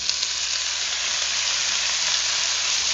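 Two packages of smoked beef sausage, sliced into half-inch rounds, sizzle in a skillet with a loud, dense, steady hiss that holds evenly throughout.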